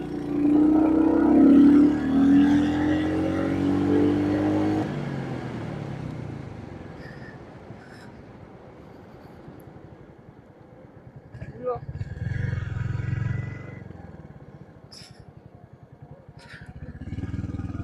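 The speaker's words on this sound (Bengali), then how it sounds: "এনজয় করছি রয়্যাল এনফিল্ডটা টেস্ট রাইড" A Royal Enfield Hunter 350, a 350 cc motorcycle, rumbles along on a test ride, its engine steady beneath someone talking loudly at first, then quieter road noise with a rising engine hum toward the end.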